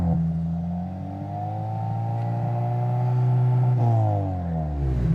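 A cheap hot hatch engine is revved to about 3,500 rpm for a track noise test, a loud, close, sustained rising drone with clear harmonics that holds steady, then drops back near the end.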